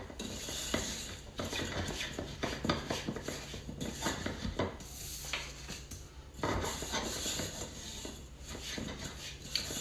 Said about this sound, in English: And stir this all together.